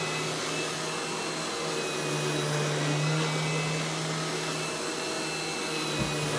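A Royal Classic Power Team 4650 canister vacuum cleaner runs with a loud, steady motor whine and airy rush, close by and unbroken, with a faint bump near the end.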